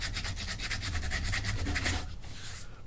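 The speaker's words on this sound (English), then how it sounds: "Sand it down a little bit," A small piece of stick being sanded by hand to round it over, steady rhythmic rasping strokes close up, then slowing and fading near the end, with no voices.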